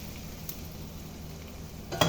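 Ground beef sizzles quietly in a pan with a soft, steady crackle, and there are a couple of brief clinks or stirs.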